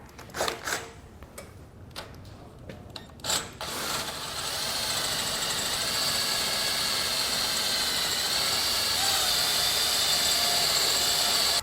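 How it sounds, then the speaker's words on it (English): A few short taps and clicks, then a power drill whirs steadily with a high, continuous whine for several seconds while drilling holes in the frame of a 2020 Chevrolet Sonic. "So now we'll go ahead and drill these out"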